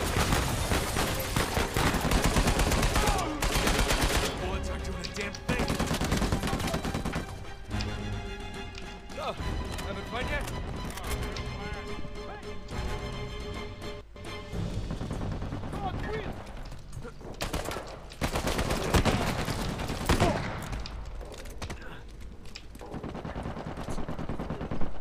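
Gunfire from a gun in the video game Uncharted: A Thief's End, dense bursts and scattered shots running throughout a busy, loud battle mix with a voice talking over it.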